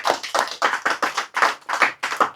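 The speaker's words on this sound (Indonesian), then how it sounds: "Tepuk tangan." Audience applause comes in short rhythmic bursts, about eight distinct clap groups in a steady beat, fairly close and clear.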